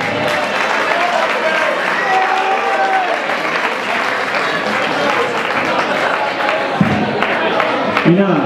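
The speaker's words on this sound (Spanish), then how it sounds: "Fuerte aplauso, por favor." A crowd at a charity concert of Andalusí music breaks into loud, continuous applause with scattered cheers, a dense clapping roar that holds steady before a few louder thumps near the end.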